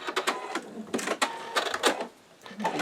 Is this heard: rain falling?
no